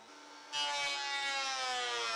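Power tool planing down scrap wood parts: a loud, steady high-pitched whine with a grinding edge that jumps in level after half a second and holds, close and alone.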